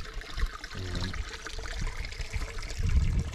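A spring flows at about six gallons a minute with a continuous trickling, gurgling stream nearby. A person briefly says a word over it.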